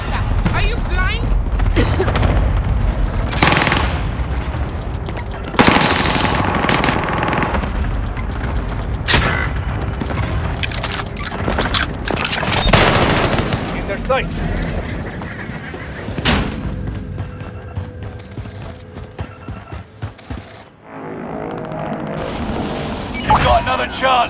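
Gunfire in an Apex Legends-style battle royale game: scattered loud shots and bursts, some near and some farther off, mixed with booms and game sounds over a long stretch.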